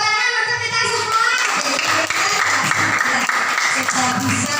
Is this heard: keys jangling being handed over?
no